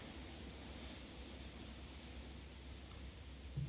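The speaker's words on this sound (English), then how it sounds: "You can really hear the water over here." Soft, steady wash of water like distant surf rolls on as ambience in the video game Layers of Fear 2, faint and continuous, alone without talk.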